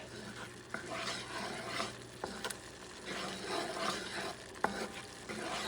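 Chopped garlic is stirred around a cooking pot for dried beans, a steady scraping, rubbing motion with a faint sizzle beneath it and a few sharp utensil knocks against the pot, quiet and close with no talk.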